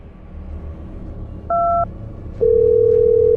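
Mobile phone sounding for an incoming call: a brief two-note electronic beep, then a louder sustained single tone, heard alone with no speech.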